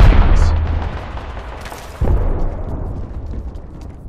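Loud gunfire in the battle royale game Apex Legends, a heavy blast at the start and another burst midway, each trailing into a rumbling decay.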